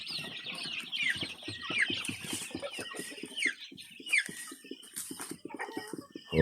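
Crossbreed chickens cluck and squawk steadily in a backyard poultry coop, many birds calling over one another at close range with repeated sharp cackles.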